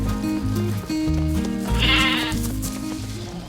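Sheep bleat at a livestock auction market, a clear call standing out partway through over a steady bed of music with no talk.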